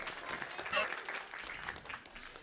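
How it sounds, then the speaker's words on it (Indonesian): Audience at a Father's Day event giving a round of applause, faint, steady clapping from many hands with voices talking over it. "Boleh sekali lagi tepuk tangan buat Kobeni yuk, 1, 2, 3."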